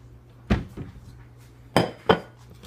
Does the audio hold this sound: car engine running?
no